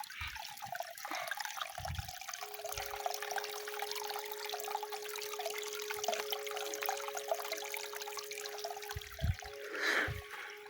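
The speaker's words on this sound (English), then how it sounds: "So we have a small stream of water there." A small stream of water near the river Chania flows steadily outdoors, a continuous soft rushing and trickling that stays fairly faint throughout.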